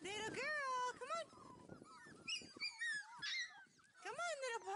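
Five-week-old Dalmatian puppies whimper and yip in high, wavering cries, close and repeated in quick bursts, mixed with a person talking softly to them outdoors.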